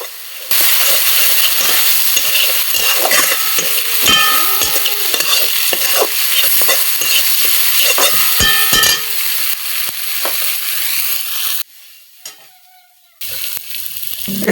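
Small fish curry with turmeric is stirred in a pan, loud steady sizzling with repeated spoon scrapes and clicks against the pan for many seconds, close up, then a brief drop and a resumption.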